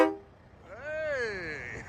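A Kenworth K100E Aerodyne truck horn gives one sustained, rising-then-falling harmonic honk of about a second, loud and close, after a brief voice at the start.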